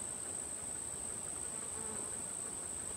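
Honey bees buzzing at a hive at a farm, a colony with no honey stores; a steady, close drone with a sustained high whine running unbroken throughout, no talking.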